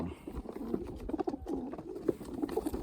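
Young racing pigeons coo softly in a loft, low throaty murmurs repeating over faint rustling and background patter.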